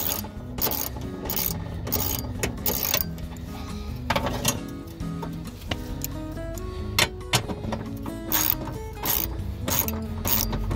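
A 10mm ratchet wrench clicks rapidly in repeated bursts while bolts come out of a power window regulator on a 2000-2006 Nissan Sentra, close up and fairly steady, with metallic rattles between strokes and no talking.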